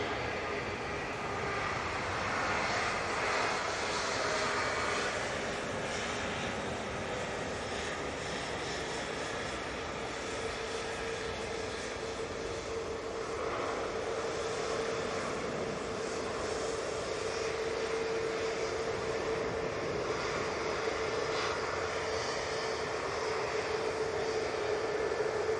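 A Virgin Atlantic airliner at Manchester Airport gives off a loud, sustained jet-engine roar with a steady whine on top. It is heard at close range and holds at an even level throughout, with no talking over it.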